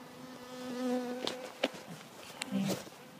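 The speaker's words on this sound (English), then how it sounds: "Worker bees still in box." Worker honey bees buzzing inside a queen shipping box, a near, steady drone with faint overlapping hum and a few brief clicks and knocks.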